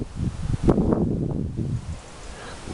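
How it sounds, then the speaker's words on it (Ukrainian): Strong gusty wind at an apiary buffets the microphone, making a loud rumbling roar that swells and then settles into a steadier rush. "Хоча дуже великий вітер, дуже великий вітер"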